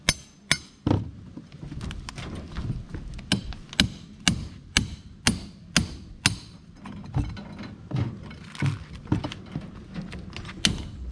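Concrete being dug out with a piece of steel to expose a pipe, sharp metallic strikes repeating in a steady irregular rhythm, each hit ringing briefly over faint background noise.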